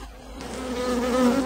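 Honey bees buzz loudly around a hive brood frame, a dense, rising drone swelling as the insects take flight close by.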